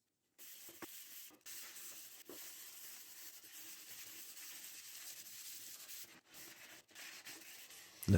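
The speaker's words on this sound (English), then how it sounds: "Look at that intense slow-mo sanding action." Wood sanded by hand with fine 300–320 grit sandpaper: a soft, steady raspy hiss of continuous rubbing strokes, faint and close, with a few brief pauses and no talking.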